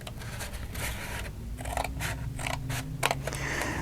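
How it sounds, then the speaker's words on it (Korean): Scissors snip through two stacked sheets of paper folded in half for a handmade picture-book craft, giving a series of crisp, close cutting and rustling sounds over a low steady hum. "요 한 칸, 요 부분만 가위로 그냥 오려주시면 됩니다"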